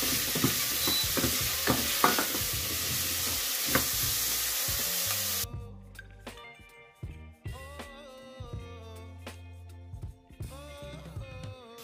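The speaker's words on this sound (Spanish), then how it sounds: "Y bajamos el fuego en el 5, que se nos haga el sofrito poco a poco." Onion and pumpkin sofrito frying over low heat in a pan, a steady close sizzle for the first half, then quieter crackling with stirring clatter and scraping in the second half.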